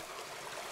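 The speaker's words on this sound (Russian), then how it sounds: "Такой родничок, который уходит потом под землю." A small spring stream of the Atysh river flows just before it disappears underground, giving a brief, steady, soft hiss of running water, close and alone.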